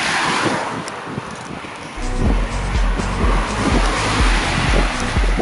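Wind buffets the microphone in rough, uneven gusts, with low rumbling thumps that grow stronger partway through.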